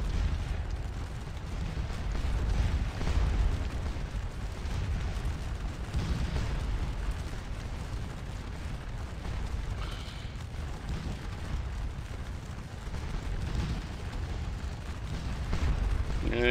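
Napoleonic artillery fire at Waterloo in the Scourge of War strategy game: a dense, continuous low rumble of cannon booms and bursts that rolls on without pause across the whole stretch.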